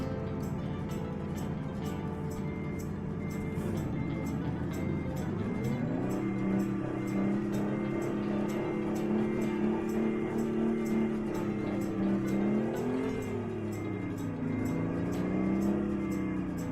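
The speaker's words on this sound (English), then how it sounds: "it sounds like the truck's just revving like a race car" A Mack Type R truck engine in American Truck Simulator, heard on icy roads, hums steadily and then climbs into sustained high revs that rise and fall twice, moderately close and quiet, with no talking.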